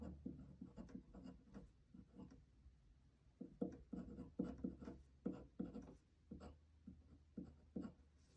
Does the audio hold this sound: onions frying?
no